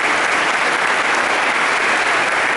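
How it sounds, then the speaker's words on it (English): Steady, dense applause at a school sports felicitation ceremony honouring archery students, the clapping of a large audience filling the whole moment without a break. "So we must clap for all of them for their achievements."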